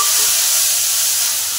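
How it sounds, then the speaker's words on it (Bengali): A whole chopped tomato drops into hot oil with cumin and dry red chilli and sets off a loud, close, steady sizzle that hisses without pause for the short stretch, and no one talks. "তো ফার্স্টেই দিয়ে দিচ্ছি যে টমেটো"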